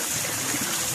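Steady rush of water spilling from the tind buckets of a Punjabi charkha (Persian wheel) drawing water in a Pakistani village, continuous and fairly close with no talk.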